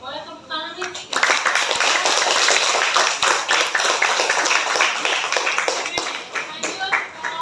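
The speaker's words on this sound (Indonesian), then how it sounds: "Boleh tepuk tangan nih?" A group claps together at a teachers' coaching and academic supervision session after a presentation: dense, sustained applause that starts abruptly and fills the room, with a few faint voices underneath.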